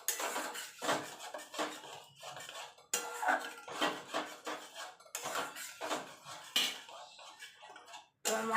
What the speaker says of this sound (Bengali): টক দই দিয়ে কিন্তু সঙ্গে সঙ্গে কিন্তু নাড়তে হবে।